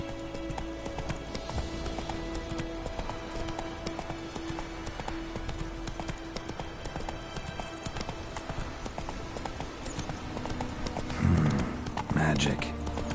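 Roach, a horse in The Witcher 3, gallops with steady, rhythmic hoofbeats, and a voice speaks over the clatter before a brief louder burst near the end.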